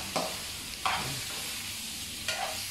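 Stingray pieces sauté in a pan with a steady hiss, interrupted by three distinct scraping stirs of a utensil against the pan.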